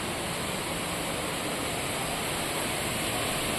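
A large waterfall controlled by a dam behind the Hanuman temple at Tungareshwar pours as a dense, even roar of rushing water, loud and unbroken, with no voices.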